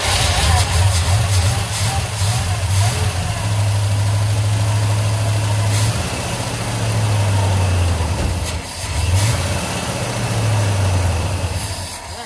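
An old 1982 car engine with 40k original miles runs and idles after being started, a loud, close, steady rumble with slight rises and dips in pitch while people talk over it.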